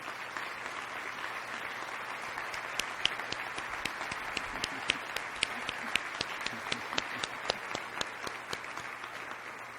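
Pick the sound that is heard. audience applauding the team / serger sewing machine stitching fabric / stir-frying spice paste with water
audience applauding the team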